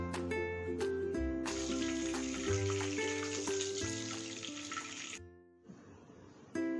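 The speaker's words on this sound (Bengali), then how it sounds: "এখানে আমি দিয়ে দিলাম 2টা তেজপাতা, 2 টুকরো দারুচিনি, 4-5টা এলাচ আর 4-5টা লবঙ্গ দিয়ে একটু এটার ফ্লেভার আসা পর্যন্ত একটু ভেজে" Bay leaves, cinnamon pieces, cardamom pods and cloves fry in hot oil for chicken rezala, a faint steady sizzle beneath music and clinks, cutting off near the end.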